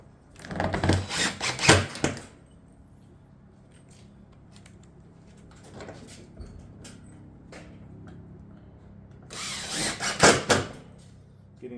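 A driver sends 2.5 inch panel screws down through a ridge cap into roof decking in two loud, buzzing bursts at the start and the end, with quieter scattered knocks and handling noise between them.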